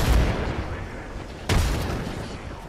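Grenade explosions in the battle royale shooter Apex Legends on Storm Point, with two loud, close booms, one at the start and a second sharp blast midway, each fading into a rumbling tail.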